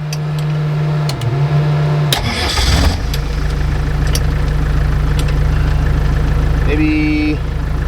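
A truck engine cranks and fires back up after being shut off, then settles into a loud, steady idle close by, with a brief higher whine near the end.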